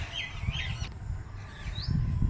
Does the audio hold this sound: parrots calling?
yes